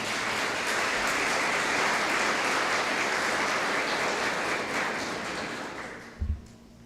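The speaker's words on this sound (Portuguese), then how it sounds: "Vamos aplaudir o nosso Deus" A church congregation applauds together in a steady, dense wash of clapping that holds for about six seconds before tapering off, with a brief low thump near the end.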